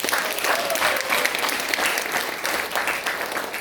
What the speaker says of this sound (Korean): 믿으시는 분들만 박수 부탁드리겠습니다.